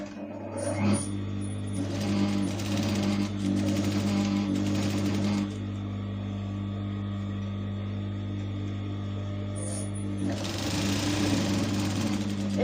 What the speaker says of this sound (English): Then I want to make a straight stitch all through around the fabric.